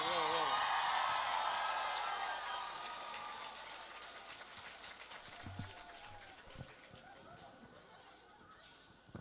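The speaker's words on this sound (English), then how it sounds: "Please stand and give him a big clap" Audience applause at a youth gathering with the Rector Major, loud and dense at the start and then thinning into scattered claps and crowd noise, with voices and a few laughs mixed in.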